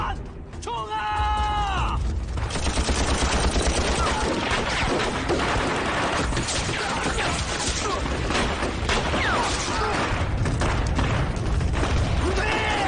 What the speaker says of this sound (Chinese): 轻重机枪掩护，把子弹全部打光